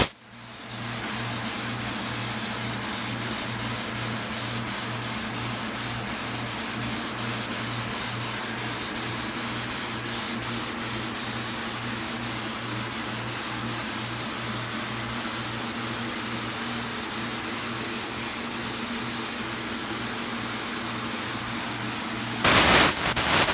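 A spray gun lays a paint coat in a paint booth, a loud, steady hiss of air and atomized paint running almost without pause and cutting off near the end.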